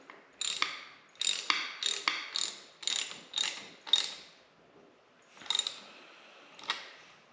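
Ratchet tightening a Memphis Shades hand guard onto a Harley-Davidson motorcycle: bursts of crisp metallic clicking, about seven quick pulls, a pause, then two more, close and loud with no talk.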